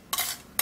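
Blended skin remedy scraped and transferred into a bowl, two brief soft scraping swishes separated by a short pause.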